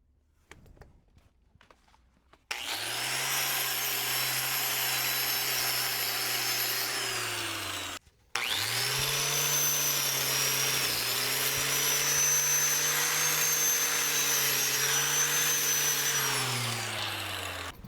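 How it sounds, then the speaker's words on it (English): An angle grinder strips paint and stucco off a household water pipe, with a loud, sustained high whine that starts after a few quiet seconds, cuts out briefly, then resumes with slight pitch shifts from changing load. "I just need to grind off the pipe to clean it up"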